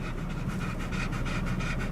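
A dog pants steadily inside a 2019 Audi A6 with the air conditioning running, a close, continuous rhythm of quick breaths at a moderate level with no talking.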